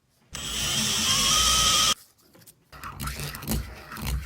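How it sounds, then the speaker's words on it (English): A power tool whirs steadily on PVC conduit tube, rounding the cut edge where it meets an elbow, one sustained burst followed by quieter handling noises. "wherever a tube goes into an elbow, I'm going to aggressively round this edge."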